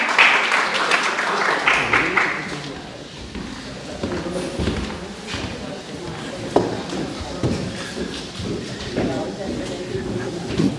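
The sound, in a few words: audience applause at a mushaira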